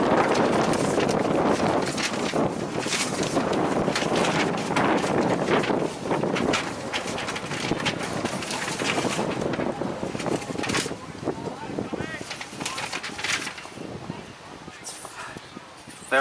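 Heavy wind buffets the microphone throughout a club cricket grand final, a constant roaring rumble and flutter that dominates from start to finish, with a commentator's voice running underneath it.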